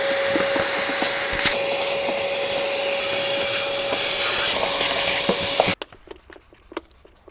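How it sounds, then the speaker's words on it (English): Shop vac vacuuming around a BMW E36 cowl area, a loud steady whine with a faint tonal hum and brief rattles as debris is sucked up, then cutting off abruptly near the end. "use the old shop vac to clean her up a bit here"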